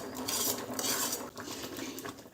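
A metal spoon stirs rice and milk for nolen gur payesh in a pot, giving continuous scraping and clinking close by, with no talk.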